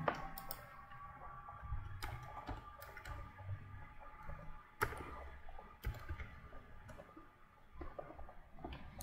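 Quiet, sparse key clicks come from typing a theme name into a search bar on a computer, with irregular taps and short pauses between bursts.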